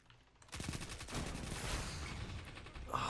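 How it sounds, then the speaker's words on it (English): Rapid video game gunfire from another player rattles in as a loud, sustained burst of shots for a couple of seconds, sharp and close after a brief quiet start. "Oh, some other guy shooting me"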